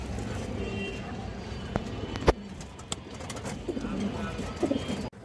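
Pigeons in a loft of fancy breeds, including a red-eyed male, give soft, low cooing through a busy background of rustling and scattered clicks, heard faintly and continuously.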